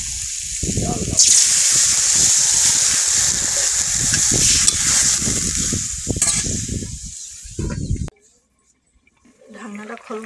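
Water pours into a hot oiled pan over eggplant, a loud rushing hiss and sizzle lasting several seconds before cutting off into near silence with faint handling.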